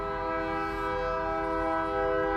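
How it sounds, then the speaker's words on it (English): Passing train sounding a long sustained horn chord, loud and steady from start to finish over a low rumble of the rail cars, with no speech. "And sorry for that train,"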